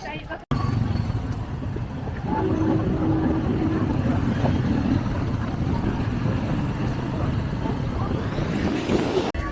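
A motorbike rides through busy street traffic in Kathmandu, with a steady loud engine and road roar running throughout alongside passing vehicles and general street noise.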